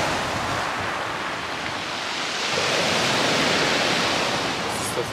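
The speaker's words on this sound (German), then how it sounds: "Das ist das Meer von Italien." Sea waves wash along the Croatian coast in a continuous broad roar of surf, close and steady, with wind buffeting the microphone and no voices.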